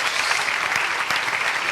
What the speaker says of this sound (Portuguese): E vamos dar um aplauso bem forte para Jesus.